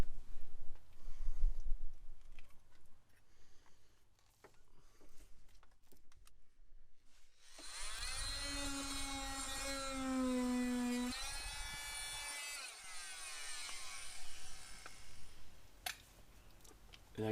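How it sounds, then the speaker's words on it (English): Oscillating multi-tool cutting a plastic flange on a car's evaporator housing during a GM evaporator core replacement, a loud buzzing whine with a wavering pitch for several seconds, preceded and followed by quiet handling clicks and rustles. "I'm going to use the oscillating tool to cut that flange right there again"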